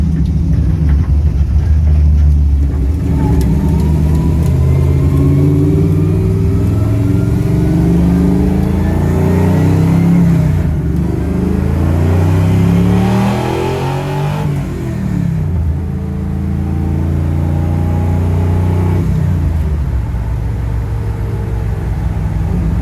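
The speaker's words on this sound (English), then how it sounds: "the exhaust was kind of loud" A 1955 Chevrolet with a loud exhaust drives at length, its deep, rumbling engine note rising and falling as it accelerates and shifts. It stays close and steady throughout, with no talk.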